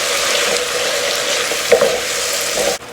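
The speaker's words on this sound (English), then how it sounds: "once you see that those peppers and onions are starting to saute and they're softening" Peppers and onions sauté in a skillet for chili mac, giving a loud, steady sizzle close by with a brief stir or clatter partway through that cuts off abruptly at the end. No one speaks.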